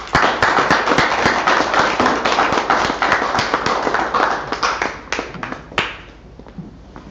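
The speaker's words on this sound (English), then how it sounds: "let us all give a round of applause to the man behind NCCA himself, Chairperson Arsenio Niclisaso" A crowd applauds at the inauguration of Sentro Rizal in New York, a dense, steady burst of many hands clapping that carries on for several seconds before thinning out and fading.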